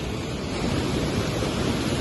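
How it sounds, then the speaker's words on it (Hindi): Water pouring through a dam in Balochistan makes a dense, steady rumbling roar, close and loud, with a windy low-end edge and no talking over it. "तो गाइस ये देखो कैसे पानी जा रहा है।"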